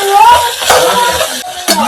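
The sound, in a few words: stirring ginger-garlic-chilli paste into sizzling veg pulav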